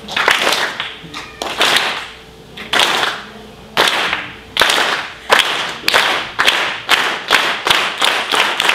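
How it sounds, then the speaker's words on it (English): A group claps in unison at a San Francisco organizing event, starting with slow, spaced loud claps that come quicker and quicker until they run into a rapid, steady beat, with a few voices and cheers among them. "Just follow my clap, and then it just gets faster and faster, right?"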